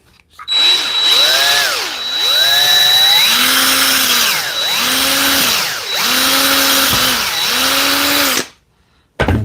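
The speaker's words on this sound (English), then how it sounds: "So now I can come back with my 1/4" drill bit" A power drill fitted with a 1/4 inch bit bores through a mobile miter saw stand, its motor whining and dipping in pitch as it loads up and recovers in four or five pulses, close and loud, then cutting off near the end.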